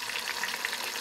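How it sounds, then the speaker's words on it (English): Flounder fillets fry in a pan with a steady, dense sizzle and crackle that stays even and close throughout, with no talking. "now that I've let the fish cook good on one side there"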